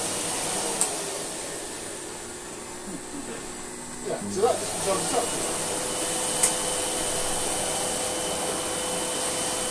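A Sebo Duo-P rug cleaning machine drones steadily nearby, a constant motor whine that runs the whole time while a person talks briefly over it.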